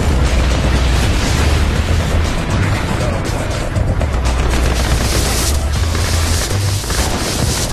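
Nuclear missile blast in the video game Red Alert 2, a loud, sustained roaring rumble with deep booming low end that fills the whole stretch without pause.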